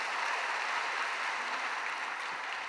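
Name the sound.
congregation applause in church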